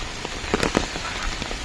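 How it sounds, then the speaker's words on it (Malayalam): Heavy rain drums on an umbrella, dense pattering with sharper individual drop hits scattered through, steady and close, no voices. "നല്ല അസലി മഴ പെരുങ്ങോണ്ടിരിക്കുകയാണ് കേട്ടോ കുടന്റെ മേലെ ടും ടും ടും എന്നുള്ള"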